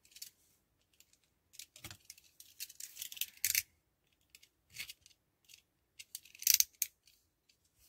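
Cutter knife slicing wooden dog kit pieces free, short dry scraping cuts and snaps in scattered bursts, close and fairly quiet, no talking.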